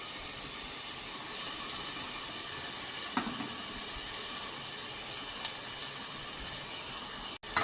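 Tomatoes sauté in a pan with coriander, mint and yogurt for chicken biryani, a steady close hiss and sizzle running throughout with a faint stir partway through and a brief clatter near the end.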